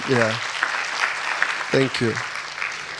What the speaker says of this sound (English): Kindly let us have this clap for him.